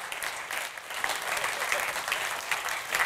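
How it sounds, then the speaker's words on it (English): Audience applause fills a keynote hall at a tech conference, dense steady clapping from a large crowd throughout, fairly loud and unbroken with no talk over it. "A big round of applause to my mother."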